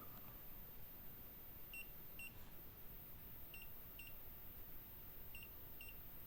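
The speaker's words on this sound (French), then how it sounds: "le détecteur de champ électromagnétique qui se met à sonner quand il y a donc un champ électromagnétique" An EMF detector sounds paired short high beeps three times at even intervals, faint against a steady hiss in a château at night.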